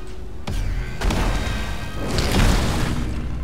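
Explosions in the video game Magicka go off in quick succession, a dense burst of booming blasts that swell and crash over a few seconds without any talk.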